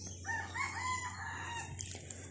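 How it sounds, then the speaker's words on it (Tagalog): A rooster crows nearby while other chickens cluck, over a steady low hum. "Perting daghan ng manok"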